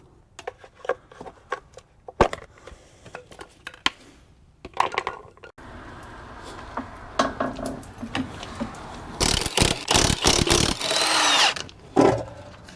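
Bolts tightened on the rear suspension of a Mercedes Sprinter NCV3 van, with sharp metallic clanks and ratcheting bursts, then a longer loud run of power-tool rattling near the end.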